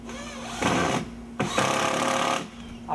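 A power drill drives screws into pre-drilled wall studs during a window install, with two bursts of close, high-pitched whirring separated by a short pause.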